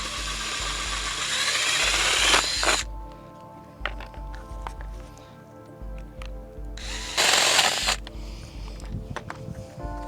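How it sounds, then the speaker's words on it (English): A power drill with a pilot bit bores holes through plastic covers on a 2025 CFMoto Ibex 450 motorcycle, two loud close bursts of high whining drilling separated by a quieter pause with faint handling sounds. "So now we're going to drill the holes in the covers."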